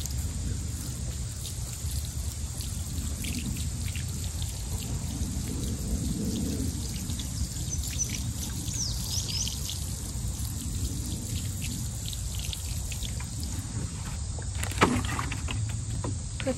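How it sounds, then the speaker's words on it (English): Water poured onto the soil around a newly planted tree, a steady, even splashing hiss that runs unbroken for the whole stretch at close range, with a brief sharper knock near the end. "Then I'm just gonna water that down a little bit."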